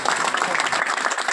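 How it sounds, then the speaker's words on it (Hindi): A crowd claps in welcome at a Hindi political gathering, a brief, dense burst of steady applause with possible voices mixed in. "ताली बजा के स्वागत कीजिए"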